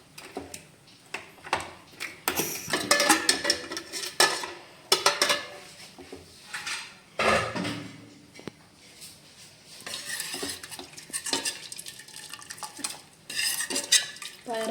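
Metal pots and utensils clatter and clank repeatedly in bursts, with a hiss of steam as a pressure cooker lid is worked open, close by, after cooking green gram.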